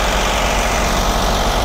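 A remanufactured engine idles in the engine compartment of a 2005 MCI D4500 57-passenger motorcoach, giving a loud, steady, even rumble that runs throughout.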